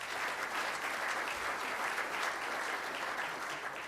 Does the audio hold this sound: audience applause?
yes